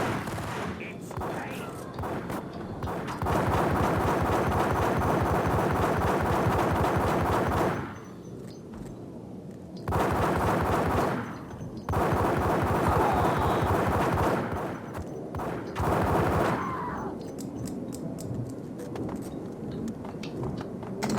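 A shootout in the video game Max Payne, with long stretches of dense, rapid gunfire broken by brief pauses and game dialogue, loud and sustained over about twenty seconds.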